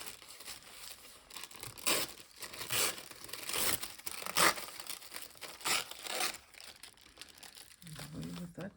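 Printed tissue paper is torn and crinkled by hand in a series of soft, close rips and rustles, quiet and irregular, with a faint voice near the end.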